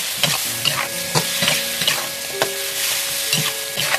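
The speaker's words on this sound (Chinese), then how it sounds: "继续翻炒一下" Duck meat is stir-fried in a wok with soy sauce and salt, a steady close sizzle broken by repeated scraping, clanking strokes of a spatula against the pan, with no talking.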